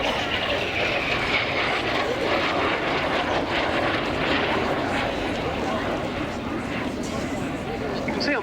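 A Folland Gnat T1 jet trainer flies past at the RAF Cosford airshow, a loud steady engine roar with a commentator talking over it.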